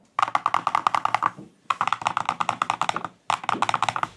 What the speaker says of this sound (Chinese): 再来感受一下打字音啊